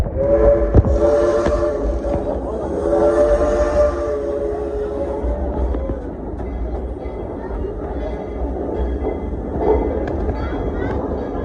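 A small forest museum train rumbles along steadily with clattering wheels and a low mechanical drone, while voices talk faintly over it.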